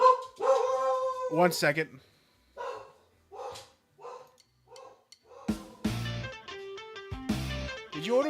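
A pet dog reacts to a doorbell indoors, letting out a run of short, sharp barks and yips spaced across the middle of the clip. A person talks at the start, and loud tonal sounds follow near the end.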